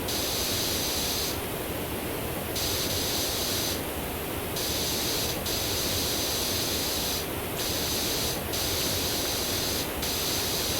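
A pressure washer in the video game PowerWash Simulator sprays a steady, loud hiss that pulses slightly as the jet starts and stops in short bursts.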